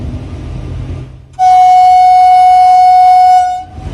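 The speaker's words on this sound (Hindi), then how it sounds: "जैसे ही रेलवे क्रॉसिंग करीब आया, खुद ब खुद हॉर्न बजने लगा" A train horn on an Indian Railways locomotive, sounded automatically by the Kavach safety system near a level crossing, blasts once, loud and close, holding steady for about two seconds over the rumble of the moving train.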